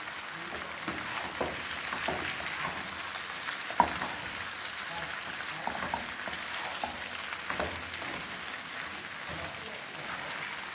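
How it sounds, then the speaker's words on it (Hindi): A spiced potato pickle curry mixture is stirred in a pan, giving a low, continuous sizzle with soft scraping strokes and an occasional sharper knock, fairly quiet and without talk. "इसके बाद हम इसको अच्छा सा मिक्स दे देंगे।"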